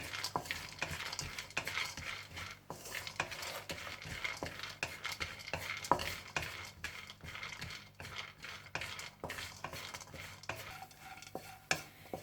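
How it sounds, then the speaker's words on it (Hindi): Raisins and melon seeds frying in ghee for panjiri, with a soft steady sizzle under frequent scrapes and clinks of a spoon stirring in the pan, close and continuous. "इसी घी में आप हल्का सा किशमिश और चारे मगज को फ्राई करके निकाल लीजिएगा।"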